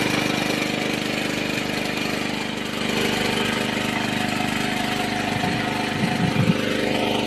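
A new-model 300 V portable generator runs with a steady, droning engine hum, constant and fairly loud throughout, with a few brief rattling bursts near the end.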